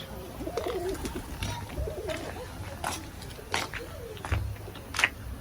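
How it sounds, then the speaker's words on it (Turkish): Pigeons coo in a nature village in Çatalca, Istanbul, with soft repeated low coos spread through the clip amid faint outdoor ambience, scattered clicks and rustles, and quiet nearby voices. "güvercinler var burada"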